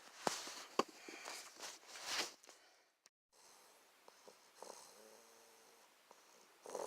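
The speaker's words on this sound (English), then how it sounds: "That's Cookie snoring." A dog snores quietly indoors, making soft, faint rasping breaths, preceded by brief rustling and shuffling movement and a short pause.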